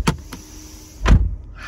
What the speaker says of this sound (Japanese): で、ドア閉めた音はこんな感じ。